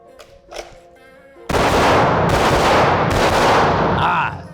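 Rapid bursts of gunfire during target shooting practice, a dense, loud, continuous volley after a quiet start with a faint voice, then ending abruptly.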